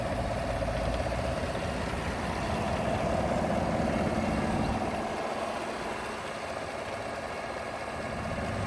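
The 5.3-liter V8 engine of a 2017 Chevy Tahoe Premier with a 6-speed automatic idles steadily with a low, even rumble and a constant hum, close by with no talking.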